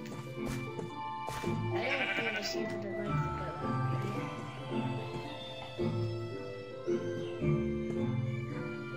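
In Minecraft, a sheep gives a few short bleats close by and at moderate volume, partly buried under a person talking and steady game background sounds.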